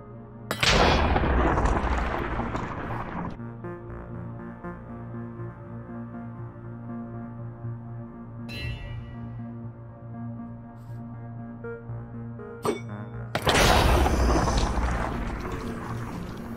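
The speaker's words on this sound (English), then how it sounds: "When you land, you'll create a mob-damaging explosion that doesn't break blocks" Minecraft Mjolnir Thunder Jump landing explosions, two loud booming bursts with long rumbling tails, separated by a low droning hum and a couple of sharp cracks.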